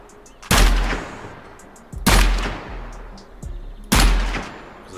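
Three loud, close gunshots at targets in Gunsmith Simulator, evenly spaced about every one and a half seconds, each a sharp crack with a decaying tail, under a faint steady background.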